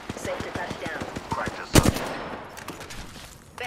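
Apex Legends gunfire in a fast rhythmic automatic burst lasting over a second, followed by a loud sharp blast and scattered shots, with game voice lines and a speaking voice over it.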